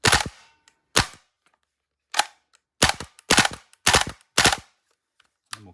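A Krytac Kriss Vector gas blowback airsoft rifle fires paired double-tap shots, several sharp loud cracks in quick twos with short silent gaps between them and one faint final pop.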